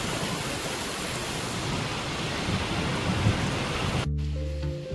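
Steady, dense rainfall pours down heavily for several seconds, then cuts abruptly to a quieter indoor hum with a low tonal drone.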